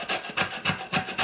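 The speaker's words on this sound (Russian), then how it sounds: "морковку буду натирать на крупной терке" A large carrot scraped down a coarse grater in five even, rhythmic strokes, close and crisp, each pass a rasping rub.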